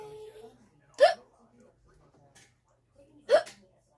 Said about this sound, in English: Oh, I have such bad hiccups randomly.